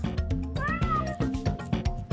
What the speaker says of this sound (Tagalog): Kayong dalawa, mga pusa